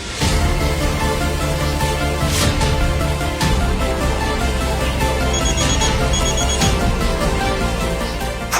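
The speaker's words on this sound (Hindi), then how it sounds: "फोन उठाओ" A telephone ringtone plays steadily and fairly loud for the whole stretch, layered with dense music-like tones in a dramatic indoor scene, with no talking.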